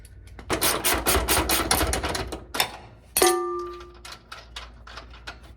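An old bolt comes out of a frame connector on a third-generation Camaro with a rapid run of close metallic clanks and taps, then one sharp clang that rings on briefly, followed by scattered lighter knocks.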